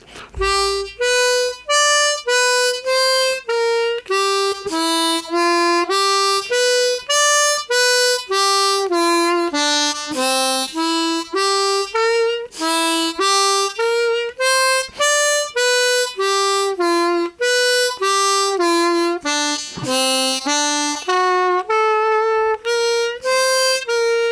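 A harmonica plays a simple melody of single and paired notes on the first four holes, stepping up and down, steady and close, with no voices.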